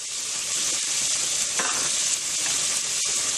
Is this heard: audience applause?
no